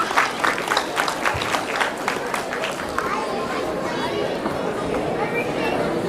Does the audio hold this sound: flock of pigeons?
no